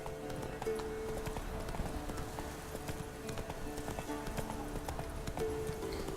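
Roach, Geralt's horse in the video game Witcher 3, moves at a steady trot with a continuous clip-clop of hooves, moderately close under a dense game background, with no voices.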